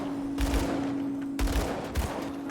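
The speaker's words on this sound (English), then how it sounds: "these, pistols are ripping them apart" Pistols fire in Grim Dawn in quick bursts, a couple of sharp volleys of rapid shots over a steady electronic hum, fairly close and moderately loud with no speech.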